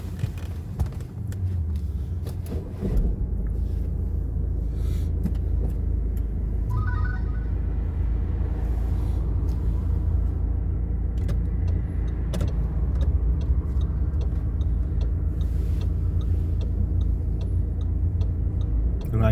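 A car moves off during a beginner driving lesson on a Leeds test route, a steady close engine rumble inside the cabin with soft ticking of the indicator, after a few seconds of quieter idling.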